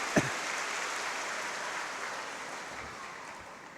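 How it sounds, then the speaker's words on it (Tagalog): Loud, dense applause from a church congregation at a Simbang Gabi Mass, a sustained wash of clapping that fades slightly toward the end, with no talk over it. "Bigyan natin ulit sa ating mahal na Panginoon isang malakas na palakpak."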